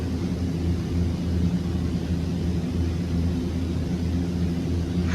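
A Fokker 50 turboprop in flight in X-Plane 11 drones with a steady, even engine hum and low rumble, continuous and unbroken with no talking.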